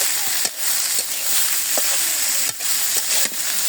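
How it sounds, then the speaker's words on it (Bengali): Potato bhaji stirred in a pan in a village kitchen: a steady, close frying hiss broken by a few sharp scraping knocks from the stirring utensil. "আলু ভাজি দিয়ে দিই। নাড়াচাড়া দিয়ে দিই"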